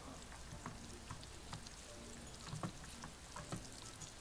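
Köfte meatballs frying in a cooking video game, a soft steady sizzle with light popping ticks, faint and continuous with no voices.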